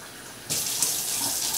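Tap water runs steadily into a container while measuring out cups of water for homemade elderberry syrup, starting abruptly partway through and continuing as a close, even hiss with no talking.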